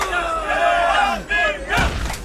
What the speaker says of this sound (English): Crowd shouting Korea in the background